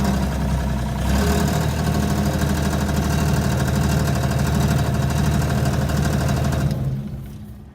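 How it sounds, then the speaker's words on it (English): A weed killing machine's engine starts and settles into a steady, loud idle, its dense mid-low drone holding evenly for several seconds before cutting off near the end. "then you can start the engine"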